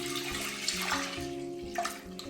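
A litre of whole milk is poured into a cooking pot for a caramel wafer recipe. It makes a steady, close liquid splash and gurgle that runs for a couple of seconds with no talk.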